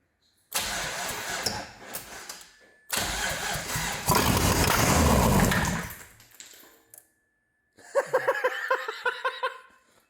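A GM LS V8 swapped into a Mazda RX8 fires for the first time: starter cranking, then a loud catch into a roaring rev that settles to a rough idle, cuts out, and restarts with sputtering, uneven bursts.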